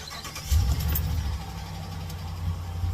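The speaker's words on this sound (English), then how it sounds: "So start your truck." A Dodge Ram pickup's 5.7L Hemi V8 cranks and catches, then settles into a low, steady idle rumble close by.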